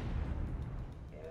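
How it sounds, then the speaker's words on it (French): Explosions boom in the real-time strategy video game Dawn of War 2, a dense low rumble of blasts and artillery-like bursts filling a short stretch, with a voice faintly under it. "Il fait des traînées d'explosions qui sortent de vraiment nulle part"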